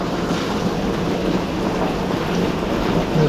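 Heavy rain pours down steadily outdoors in typhoon-like weather, a dense, continuous hiss and patter with low rumble, loud and unbroken throughout.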